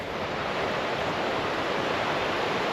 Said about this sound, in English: you can't really beat the sound of just rushing white water